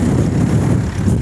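Strong wind buffeting the microphone on an exposed hilltop tea plantation in Munnar, a loud continuous low roar with no voices.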